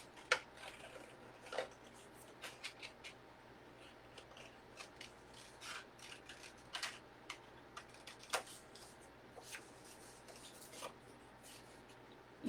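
Scissors snip out a paper craft piece for a witch gnome, giving a steady series of short, crisp cuts at close range in a quiet room, irregularly spaced and with no talking.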